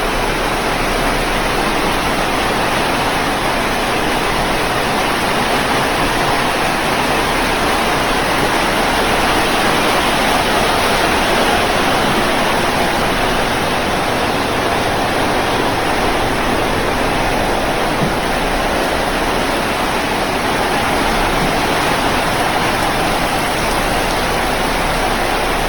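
Heavy rain pours steadily at a campsite, a dense continuous hiss of drops on surfaces that stays loud and even throughout, with no voices.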